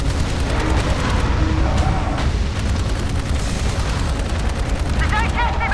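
Sustained shooting in the video game Dark Void, a loud continuous stream of gunfire and booming impacts that runs steadily throughout, with a few brief sharper cracks layered on top.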